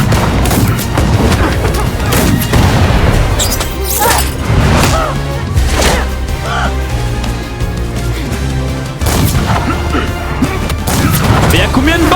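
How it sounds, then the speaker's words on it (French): Rapid gunfire and crashing impacts from a fight scene in the One Piece live action series, dense and loud throughout, with a voice reacting over the shots. "Mais y'a combien de balles dans ce flingue?"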